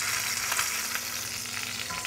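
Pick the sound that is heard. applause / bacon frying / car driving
bacon frying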